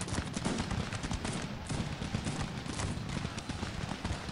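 French troops fire musket volleys in a Cossacks 3 battle between Great Britain and France, making a dense, continuous crackle of overlapping shots at mid distance that never pauses.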